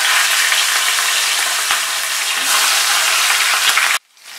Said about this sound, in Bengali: এবারে আমি মাথাটা ভেজে নেব